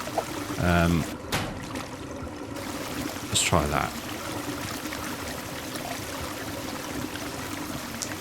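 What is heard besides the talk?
water spraying and running down a drain in DrainSim video game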